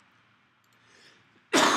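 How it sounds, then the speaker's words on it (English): A single sharp cough bursts out loudly at the very end after near silence. "Still got a little cough, but we good."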